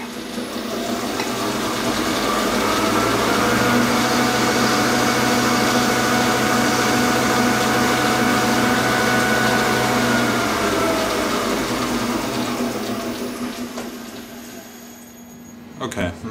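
A lathe skim-cuts the outer diameter of a 20mm saw arbor blank down to 19mm, giving a continuous loud whirring cutting noise with steady tonal whine that holds for many seconds before tapering off near the end.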